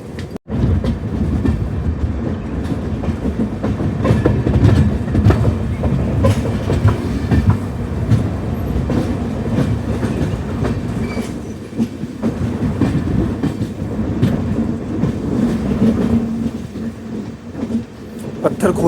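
Passenger train on the Anand Vihar to Sairang route in Assam running steadily past Pathharkhola station without stopping, with continuous loud rumble and rhythmic clickety-clack of wheels on rails throughout, close and sustained.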